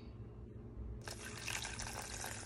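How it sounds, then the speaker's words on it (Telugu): Water is poured into a bowl of cumin powder, hing, chaat masala and salt for pani puri, a sudden close splashing gush that begins after a quiet hum and continues to the end. "నీళ్ళు పోసుకుందాం"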